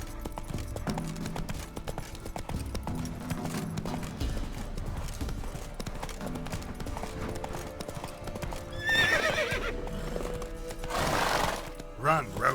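Roach, the horse in The Witcher 3: Wild Hunt, gallops with a continuous rapid clatter of hooves and whinnies loudly near the end, all close and loud under a short spoken line.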